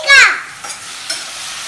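Brinjal drops into hot oil for a Tamil Nadu-style dahi baingan, giving a sharp, loud burst of sizzling that quickly settles into a faint, steady hiss with a couple of soft clicks.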